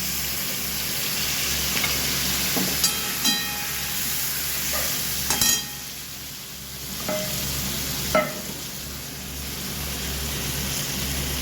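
A spice paste of chili powder, turmeric, salt and sugar mixed with water goes into a pan of fried potato, pointed gourd and okra, hissing in a steady sizzle with several sharp clinks and scrapes of stirring throughout.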